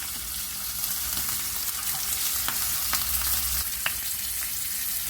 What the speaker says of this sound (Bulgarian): Запържаме бекончето